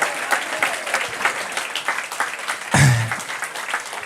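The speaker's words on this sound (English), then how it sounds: "let's give a warm round of applause for everyone tonight to put their name in the hat" Audience applause after a spoken word show, continuous close clapping from a live crowd with a brief low thump partway through, loud and steady from start to finish.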